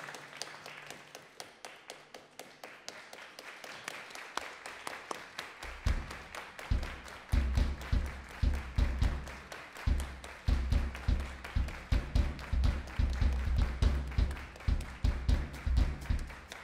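At a jazz festival concert by a trio, an audience claps along in time with the music. Faint taps at first swell into loud, steady rhythmic clapping over low thumping beats.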